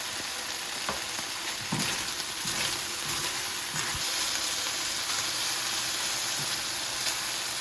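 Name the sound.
minced garlic frying in a hot pan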